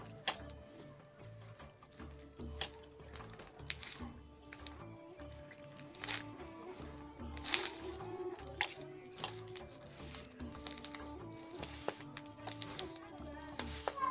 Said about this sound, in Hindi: इसको हम हल्के हल्के पानी डालकर गूंथेंगे आटा को, एक बार पानी नहीं डालेंगे।